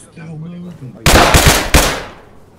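Gunshots fired at enemies in a military video game: after a brief spoken phrase, four loud, close reports ring out in quick succession, each cracking sharply and decaying into a short echoing tail.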